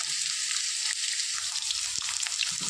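Potato pieces frying in oil in a pan for a vegetarian spinach dish, a dense continuous sizzle close up with a few soft stirring knocks.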